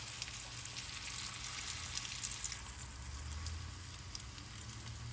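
A taco fries in melted butter on a hot griddle, giving a steady, close sizzle and crackle that holds evenly throughout with no one speaking.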